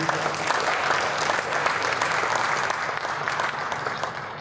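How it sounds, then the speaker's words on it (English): Steady applause from a conference audience at a plenary session fills the whole stretch, dense and sustained at an even level with no pauses. "So let's have a applause also from Mr. Morrison"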